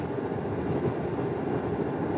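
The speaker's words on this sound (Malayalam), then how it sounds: "ഇതാണ് കേട്ടോ സംഭവം, മെട്രോ" A metro train rumbling past on elevated tracks in a city area, a steady, continuous roar held at even loudness throughout, with no voices over it.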